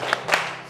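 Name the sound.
class clapping a rhythmic spirit clap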